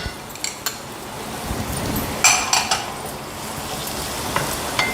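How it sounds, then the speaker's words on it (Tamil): Chopped vegetables including finely cut beans frying and being stirred in a pan for vegetable fried rice, a steady soft sizzle with scattered clinks of a spatula against the pan, no talking. "அதை வந்து போட்டு நல்லா ஃப்ரை பண்ணிக்கோங்க."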